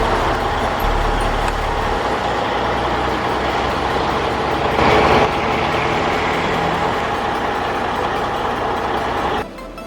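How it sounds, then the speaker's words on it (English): A powerful logging truck grinds along a dirt road through dust and branches at a forest logging site, its engine a loud, continuous diesel roar with a brief swell midway before it drops off at the end. "a powerful logging truck takes on the challenge of navigating through dust, branches, and uneven ground"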